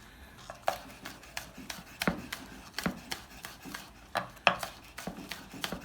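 A knife chops parsley and spring onion on a board, a loose series of crisp, uneven taps close by, with no one speaking.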